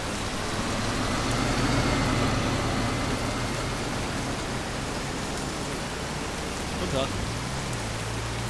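Steady rain hisses throughout, a dense wash of falling water with low traffic rumble underneath and a faint murmur of voices.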